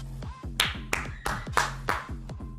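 Several people clap in a quick, uneven rhythm over a low droning background while watching a Valorant esports match, with a few sharp louder claps standing out.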